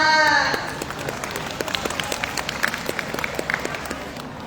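Audience applause at a student TED-style talk in a school hall, a brief voice at the start giving way to steady, moderately distant clapping that thins into scattered individual claps.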